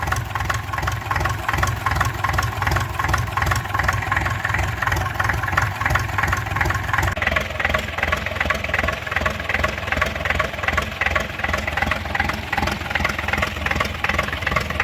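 A small 4Ch8.5/11 engine on a homemade tractor idles steadily and loudly up close, with a constant low chugging rumble and faint knocking throughout.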